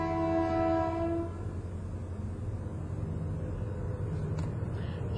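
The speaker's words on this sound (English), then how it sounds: "Sorry about the train, guys." A train rumbles past with a sustained horn blast at the start that fades after about a second, leaving a steady low rolling rail noise throughout.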